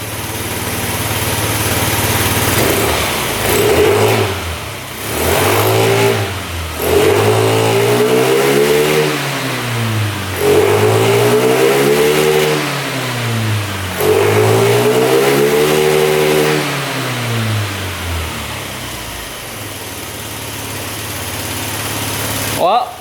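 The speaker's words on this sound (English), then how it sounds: "Huh. Revving out good." A three-wheeler's engine, just fitted with a new pump, fires up and revs repeatedly in rising and falling sweeps, loud and close, with brief dips back toward idle between the pulls.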